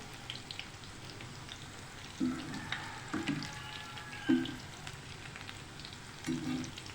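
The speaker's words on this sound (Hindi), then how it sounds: "अब इसे फ्राई होते हुए तकरीबन 5 मिनट हो गए हैं ना" Vegetable pakora in besan batter frying in hot oil, a steady close sizzle and crackle running throughout with several soft knocks and bumps as the fritters are turned.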